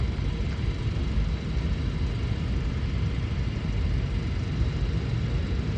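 A JetBlue airliner's jet engines give a steady, broad roar and rumble near an airport runway, holding constant and fairly loud throughout with no voices.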